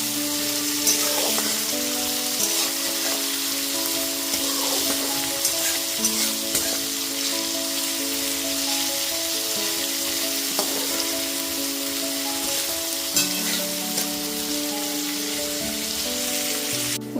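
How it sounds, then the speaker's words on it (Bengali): Chopped onions frying on a low-medium gas flame for a Bengali mutton curry, giving a steady, close sizzle under a soft, continuous background tone, with no talking. "গ্যাসের ফ্লেমটা লো টু মিডিয়ামে রেখে 10 থেকে 12 মিনিট ধরে পেঁয়াজটা এখানে লাল করে ভেজে নিয়েছি।"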